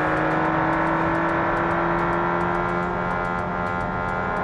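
Turbocharged AP 2.0 engine of a boxy Volkswagen Gol with 150 hp in the BeamNG Drive racing game, holding a steady loud drone with dense harmonics and faint rhythmic turbo flutter throughout.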